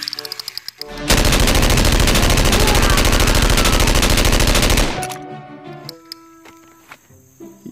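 A purple gun in a dinosaur video game fires a long, loud, dense burst of rapid automatic shots lasting several seconds, then cuts off abruptly, leaving faint scattered game effects.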